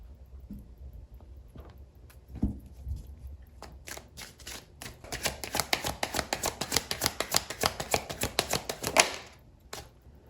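A deck of oracle cards is shuffled by hand, starting with a few scattered taps and riffles, then a rapid run of crisp card snaps that grows louder and ends with a final tap.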